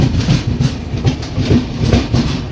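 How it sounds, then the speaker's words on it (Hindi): Tamil Nadu Sampark Kranti Express rolling slowly through Bellampalli junction on the loop line without stopping, a loud, close steady rumble with rhythmic wheel clatter over rail joints. "तो ट्रेन हमारी बेलमपल्ली जंक्शन रेलवे स्टेशन को निकल रही है"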